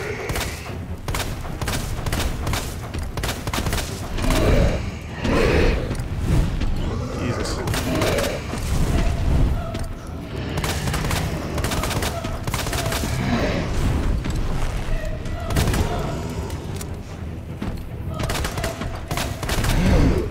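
Guns fire at a boss during a Resident Evil 2 fight: a dense run of sharp repeated shots and heavy thuds for twenty seconds, loud and close, with a voice speaking now and then underneath.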